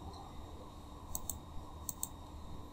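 Faint keyboard clicks tap out two quick pairs against a steady low hum, soft and close, with no voices.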